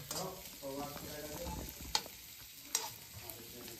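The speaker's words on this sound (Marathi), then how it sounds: "थोडा कांदा अगोदर भाजून घ्यायचा. आपला कांदा गरम झालेला आहे." Onion roasting in a pan before oil is added, for a village-style shellfish fry: a soft sizzle with stirring and two sharp clinks of the utensil against the pan, close up.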